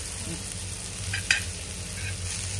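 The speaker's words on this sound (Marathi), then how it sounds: "मस्त भाजली आहेत कोलंबी, मजा येणार" Onion prawns roasting on a tawa in a Malvan-style seafood recipe give off a steady, low sizzle, close by, with one sharp utensil clink near the middle.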